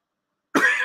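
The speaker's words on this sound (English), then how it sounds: "I ain't had a drink yet, so I'm coughing." A single short, close cough from a man bursts out of silence and lingers briefly, with no talk around it.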